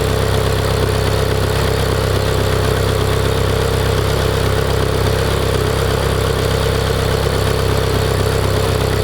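A Ferrari F430 engine idles in a home garage during an oil change, giving a steady, continuous low rumble that holds an even level throughout with no talking.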